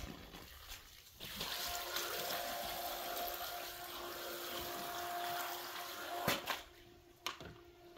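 A water pump draining an above ground pool runs faintly, a soft steady hum mixed with trickling water, with a couple of louder splashes or clunks near the end.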